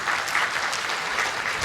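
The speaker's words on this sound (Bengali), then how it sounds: "তাদের জন্য একটা জোরদার হাততালি চেয়ে নিচ্ছি" Dense applause from an audience filling a hall in Bangladesh, steady and loud for the whole moment, with no voices over it.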